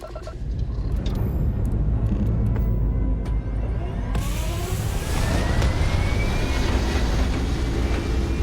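A spaceship lifting off in the video game Starfield: a loud, steady engine roar and rumble that swells sharply midway and rises in pitch as it climbs, with no talking.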